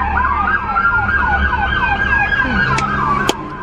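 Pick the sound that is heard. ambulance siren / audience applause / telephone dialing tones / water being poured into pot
ambulance siren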